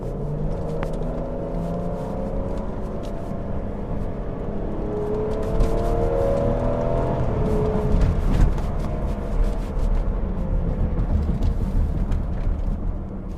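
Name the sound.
BMW X5 xDrive35i N55 engine accelerating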